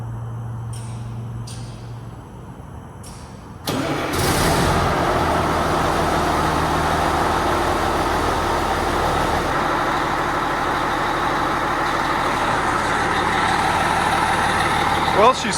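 A Prevost H3-45 coach bus converted into a Class A RV cranks and its diesel engine catches abruptly, then settles into a loud, steady idle that runs on without letting up.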